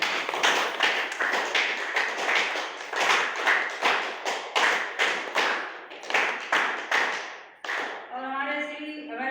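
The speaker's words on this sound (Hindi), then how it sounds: "जोरदार जबरदस्त ताली हो जाए" An audience at a meeting claps in repeated rhythmic bursts, loud and close, with a brief pause near the end before a voice comes in over the final moments.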